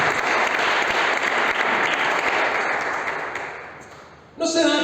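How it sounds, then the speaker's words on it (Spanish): A church congregation applauds during a Spanish-language service, a full wall of clapping that gradually fades before a voice cuts in abruptly near the end. "Denle un fuerte aplauso a Dios."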